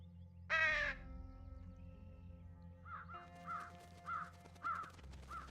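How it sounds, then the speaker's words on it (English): Crows caw in the video game Truberbrook: one loud harsh call up close, then a run of five or six rhythmic caws further off over a low ambient hum. "All the birds."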